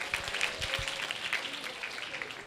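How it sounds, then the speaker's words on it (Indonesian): Children and adults at an Islamic economics outreach session clap together in a brief, moderately quiet burst of applause, a few distinct claps standing out in the first second. "Tepuk tangan dong sekali lagi"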